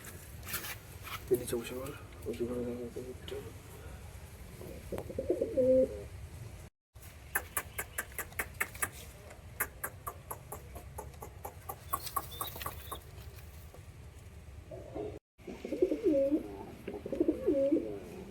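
Pigeons coo in soft, rolling bursts between stretches of rapid wing-flapping or fluttering, with someone talking intermittently nearby.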